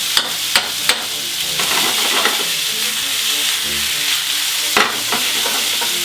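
Duck hearts sear in hot fat in a pan, giving a loud, steady sizzle with a few sharp clicks and scrapes of stirring, close up and without talk.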